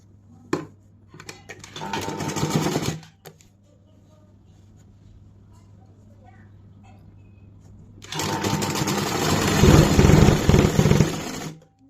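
A sewing machine stitches a button placket onto a jumpsuit in two close, loud bursts: a short run of steady mechanical whirring, then a long quiet gap, then a longer, louder run that keeps going to the end.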